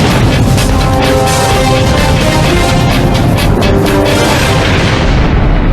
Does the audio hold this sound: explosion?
yes